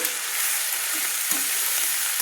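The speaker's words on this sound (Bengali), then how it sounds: "এবার আমি 1 মিনিট মতো চাপা দিয়ে আলু পেঁয়াজ কলিগুলো আবারও ভেজে নিচ্ছি একটু।" Potatoes and onion stalks (peyajkoli) fry in oil in a pan for a shrimp dish, a steady, close hiss of sizzling with a faint stirring scrape near the middle, no voices.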